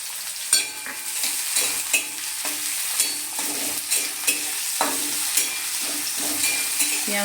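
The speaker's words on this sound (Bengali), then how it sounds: "এবার আমি এর মধ্যে দিয়ে দিচ্ছি একটা বড় সাইজের পেঁয়াজ কুচি করে রেখেছিলাম" Chopped onion sizzles in hot oil in a pan while a spoon stirs and scrapes through it with repeated soft knocks, close and fairly quiet throughout.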